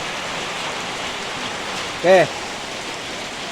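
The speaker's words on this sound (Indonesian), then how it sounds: "Hujan bro." Steady rain pours down outdoors in a continuous even hiss, with someone speaking briefly over it partway through.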